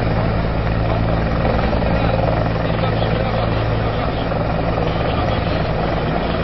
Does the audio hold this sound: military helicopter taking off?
yes